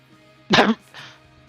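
A person with a recent cough gives a single short, harsh cough or throat clear, then a softer follow-up burst, close and otherwise quiet.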